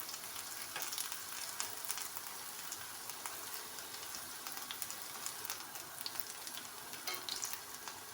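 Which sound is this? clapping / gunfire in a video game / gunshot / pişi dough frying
pişi dough frying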